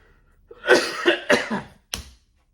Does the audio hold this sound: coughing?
yes